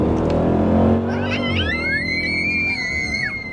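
A 2026 Dodge Durango Hellcat launching hard: a deep engine roar rises sharply as it accelerates, then gives way to rising supercharger whine and high squeals, heard from inside the vehicle.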